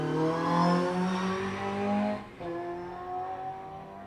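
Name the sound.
sprint car accelerating on Golspie Littleferry course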